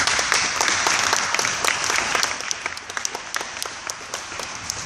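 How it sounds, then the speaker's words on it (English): An audience claps for a guest speaker at a motivational talk, with a room full of sharp, close clapping that is steady at first and then thins toward the end. "I give him a round of applause for coming."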